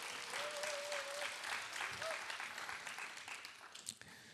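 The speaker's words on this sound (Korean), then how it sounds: "하나님 역사하신 하나님께 영광의 박수 드리겠습니다" A congregation at a Friday prayer meeting at a Daegu church breaks into sustained applause, a soft, steady patter of many hands heard from a distance that slowly tapers off, with faint voices underneath.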